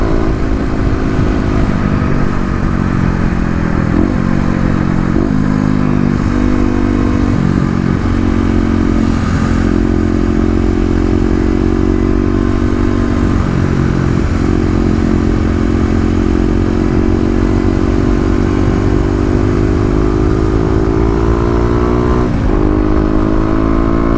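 A Kawasaki KLX250 dual-sport motorcycle engine drones loudly and continuously at freeway cruising speed, with wind rush and occasional shifts in pitch as it accelerates.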